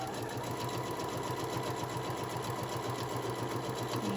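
A sewing machine stitches down the side seam of a summer tote bag with a steady, close, continuous mechanical whir and rapid needle rhythm. There is no talking.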